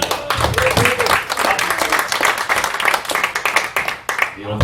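Audience applause after a stage performance at a variety evening, loud and dense with crowd noise and voices underneath, dipping briefly near the end before swelling again.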